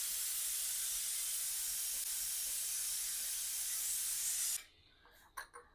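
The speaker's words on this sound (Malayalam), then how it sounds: "അപ്പോൾ കുക്കറിൻ്റെ വിസിൽ ആവിയൊക്കെ പോയി കഴിഞ്ഞിട്ടുണ്ട് കേട്ടോ" A kitchen pressure cooker, used for kappa biriyani, vents steam in a loud continuous hiss for several seconds after whistling, then cuts off abruptly, leaving a few faint knocks.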